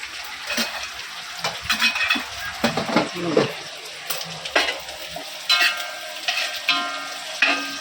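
Green chillies and curry leaves roast in a pan, giving a light sizzle broken by repeated scraping and stirring clatters at an uneven rhythm.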